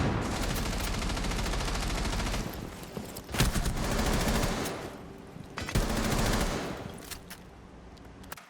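Sustained automatic gunfire from Buck's rifle in Rainbow Six Siege, loud bursts filling the first seconds, then two more rapid volleys after short pauses, with no talking.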